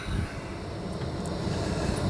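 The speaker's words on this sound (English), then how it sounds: "Two engines spooling up." An airliner's two jet engines spool up for takeoff in a steady, dense roar that holds at an even level throughout.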